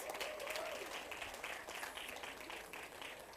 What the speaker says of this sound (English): A round of applause, please, for all those installation artists.